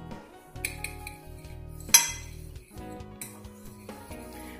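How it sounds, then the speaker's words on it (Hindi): Bread crumbs being mixed with oregano seeds, black pepper powder and salt in a bowl for restaurant-style finger fish, with soft scraping and clinking of a spoon against the dish, then a sharper clink, quiet and close. "ब्रेड क्रम्स में मैं डाली हूँ थोड़ा सा ऑरिगेनो सीड्स जो होते हैं, 1 teaspoon black pepper powder and थोड़ा सा सॉल्ट। इसको मैंने कर लेना अच्छी तरह से मिक्स।"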